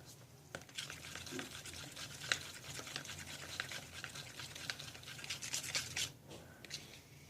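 Glue is stirred into a mint-coloured slime, a close, continuous wet squishing and sticky crackling with faint brushing scrapes, ongoing and fairly quiet with no voice.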